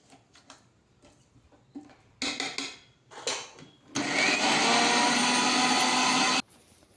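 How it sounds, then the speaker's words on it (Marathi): A kitchen mixer grinder grinds dried red chillies, three kinds, for homemade red chilli powder. It gives short pulsed bursts first, then a loud, sustained whirring grind of about two and a half seconds that stops abruptly. "आता परत मिरच्या घालून आहे ना फिरून घ्यायचं मिक्सरला"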